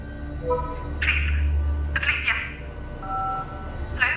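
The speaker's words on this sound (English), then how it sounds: "This is the anonymous 999 call." A telephone on an anonymous 999 emergency call gives repeated bursts of ringing or line tones at steady intervals, fairly close, over a low hum.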